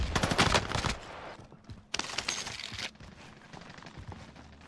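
Automatic gunfire in a Call of Duty Warzone Rebirth quads match, rapid bursts of shots fired close by in two main volleys with shorter scattered pops between and after, no talking.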